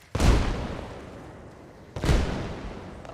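Two grenade blasts from the military game Arma Reforger, about two seconds apart, each a deep booming burst with a rumbling tail. Both sound fairly distant and moderately loud, with no talk over them.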